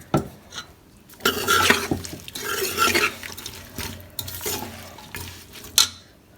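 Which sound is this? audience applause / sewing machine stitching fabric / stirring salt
stirring salt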